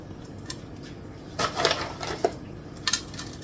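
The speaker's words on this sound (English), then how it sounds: "And then I'm going to sprinkle some pecans over top." Pecans scattered by hand over a brown sugar and butter sticky bun topping in a pan, a few brief clattering patters and light rattles, close and fairly quiet.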